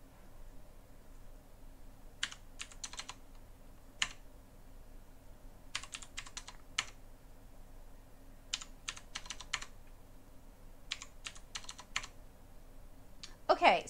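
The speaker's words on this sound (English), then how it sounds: "Why am I typing it?" Quiet bursts of quick taps on a computer keyboard numpad come in short clusters with pauses between them, over a faint room hum.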